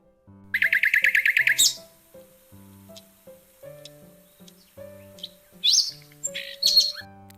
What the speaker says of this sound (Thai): เสียงนก